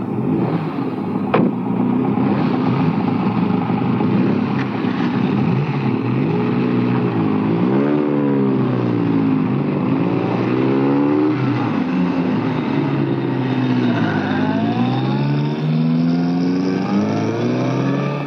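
Steady car engine drone running throughout, with rising and falling pitch sweeps as the vehicle shifts and accelerates, heard from inside the car on a drive between houses in 1960 Italy, loud and continuous with no talk.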